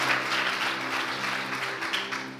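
A church congregation claps together during a Sunday service, a steady wash of applause from many hands that fills the room throughout.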